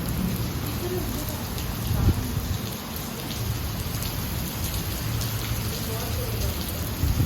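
Heavy rain pours down steadily, a dense, loud hiss of drops hitting surfaces with a low rumble underneath. It carries on without a break throughout.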